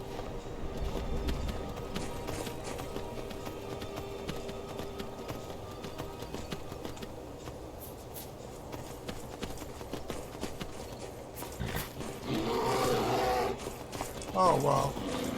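Horse hooves clip-clop at a run in Skyrim, a steady galloping patter that lasts throughout at moderate distance, with a louder burst of rustling and impacts near the end.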